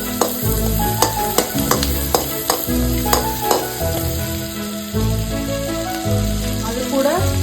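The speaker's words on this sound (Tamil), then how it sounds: "நல்லா வெங்காயம் வதங்கணும்." Onions sauté in coconut oil in a pan, sizzling loudly and close while a spoon stirs them with repeated scraping strokes.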